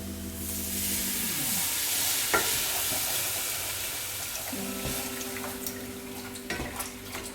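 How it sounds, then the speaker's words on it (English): Beef broth is poured into a hot pan of smothered oxtails, a steady loud hiss of liquid and sizzling steam rushing throughout, over a low humming background and a few small clicks. "I'm going to pour in some beef broth"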